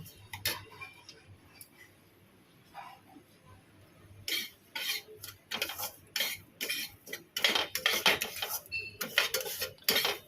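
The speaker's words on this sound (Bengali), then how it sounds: "একটু লাল লাল করে ভাজবো, যতক্ষণ না লাল লাল হবে ততক্ষণ ভেজে যাব।" Semolina toasting in a pan while a spoon stirs it, giving quiet scraping at first, then bursts of loud metallic clatter and rhythmic scraping against the pan, with no talking.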